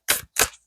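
A deck of cards riffled twice in quick succession, two short crisp bursts close up with a brief gap between them, no voices.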